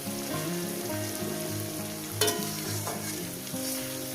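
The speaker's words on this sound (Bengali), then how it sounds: "আমি মশলাটা দিয়ে তো বন্ধুরা পেঁয়াজটাকে ভেজে নিয়েছি" Onions fried with spices in a pan for mutton curry give a steady, close sizzle. The crackle and bubbling run evenly throughout, with one brief sharper spike partway through and no talking.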